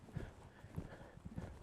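A horse cantering toward a line of training poles on a winter eventing session, hooves striking in a steady, repeating three-beat clip-clop rhythm, close and fairly loud with no talk over it.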